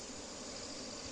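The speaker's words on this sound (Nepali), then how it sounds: "मौरी आयो" Bees buzz in a steady, faint drone during a hive transfer, a continuous hum with no talk, heard alone over a short stretch.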